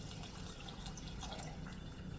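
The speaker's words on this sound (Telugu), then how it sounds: "దీంట్లో ఒక కాంబినేషన్ వాటర్ పోస్తున్నాను" Water poured into a pan while making wheat rava semiya upma, a soft, continuous trickle and splash at low level with no talk.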